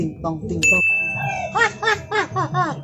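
A bright electronic chime rings out and lingers as a steady tone while people chatter and laugh over it.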